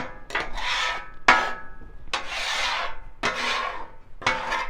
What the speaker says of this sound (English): So even the seasoned oil that I just put on here, you're going to want to scrape that off too. So just scrape everything.